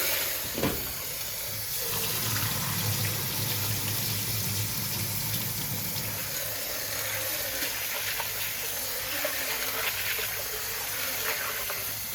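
Soaked yellow split peas washed under running water, a continuous gushing, hissing tap flow with occasional splashes and knocks in a sink, no talking.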